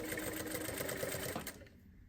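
A sewing machine runs in a rapid, even stitching rhythm while sewing a fly zip to the facing, then stops abruptly near the end, leaving quiet.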